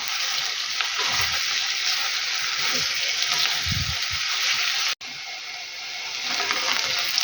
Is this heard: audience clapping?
no